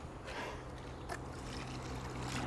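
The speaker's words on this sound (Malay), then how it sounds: "Pak Kodi pun hanya simbah menggunakan air dalam gayung je." Water scooped with a hand dipper is splashed over a rusty surface being cleaned, a soft, faint wash of trickling and splashing against a low background hum.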